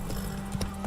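Horse hooves clop in The Witcher 3 as the rider spurs the mount on, a few quick, muffled hoofbeats over a low ambient background, brief and close.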